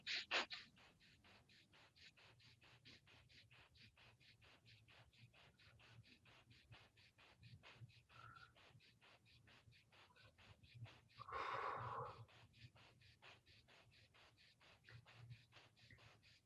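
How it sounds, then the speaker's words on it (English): Breath of fire yoga breathing during a live-streamed hip-strength class: quiet, rapid, evenly spaced nasal exhales pumping at a steady rhythm for many seconds, with a brief louder breath near the middle. "Let's move into breath of fire."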